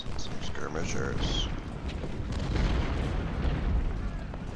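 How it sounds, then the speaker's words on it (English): Artillery fire in an Ultimate General: Civil War battle at Chancellorsville, heavy low booms and rumbling blasts rolling continuously under game sounds and a voice talking over the top. "God dang, I hate artillery."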